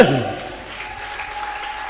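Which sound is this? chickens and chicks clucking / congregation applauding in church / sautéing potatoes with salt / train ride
congregation applauding in church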